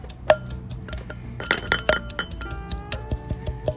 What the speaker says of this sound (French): je me suis pris une cuillère en bois